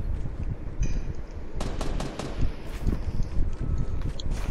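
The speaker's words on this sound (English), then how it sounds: "Stop shooting at me" Gunfire in Fortnite crackles in rapid bursts and scattered single shots over a dense, rumbling game background, loud and continuous throughout.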